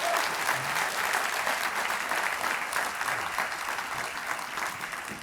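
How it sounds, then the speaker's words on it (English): A garden party crowd claps for community groups supporting migrants, a dense, even round of applause that holds steady for several seconds and tapers slightly at the end. "give them a clap"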